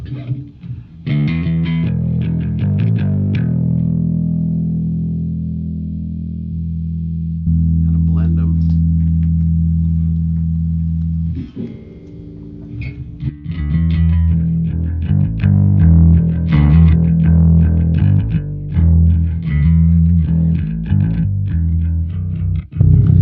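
A heavily distorted bass guitar played through a Marshall amp holds long, growling notes, then breaks into a busier riff with a gritty, saturated tone.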